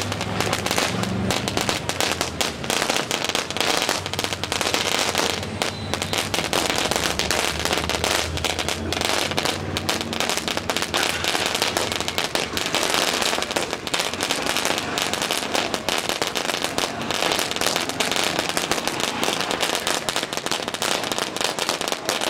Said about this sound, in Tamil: இது வந்து லாலிபாப் அப்படிங்கிற ஒரு வெடி